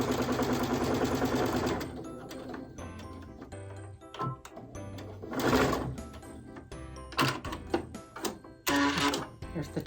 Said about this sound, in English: And we're going to sew on those lines.